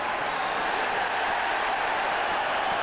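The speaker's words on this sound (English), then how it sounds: "That's why you're hearing the cheer." A steady, distant crowd roar fills an ice hockey arena during a New York Islanders versus Toronto Maple Leafs playoff game, a broad wash of cheering and applause with no distinct peaks.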